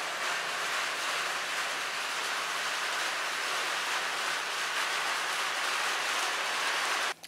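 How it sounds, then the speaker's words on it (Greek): Steady rain falling outside an opened door in a mountain village in May, a dense, even hiss of drops throughout, fairly close, ending with a brief bump. "Μπορεί να ακούετε και τη βροχή που χτυπά."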